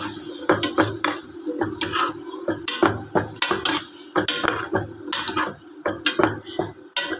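A spoon scrapes and clatters against a pan as chappan kaddu (squash) curry is stirred, a steady run of close, sharp metallic knocks and scrapes with a faint sizzle underneath.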